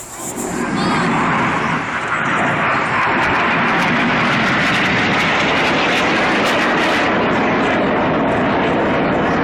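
Red Arrows display jets flying overhead at the Farnborough air show in 2012, a loud roaring jet rush that swells quickly and holds as a broad, sustained engine noise throughout.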